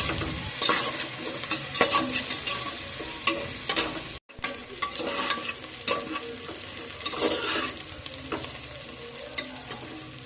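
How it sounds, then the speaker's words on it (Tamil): Onions and green chillies sautéing in oil until golden brown for egg biryani, continuous close sizzling with busy stirring and spatula scrapes broken by a brief cut, no talking. "கோல்டன் ப்ரௌன் ஆகட்டும், அது வரைக்கும் நல்லா வெயிட் பண்ணி வதக்கிக்கோங்க"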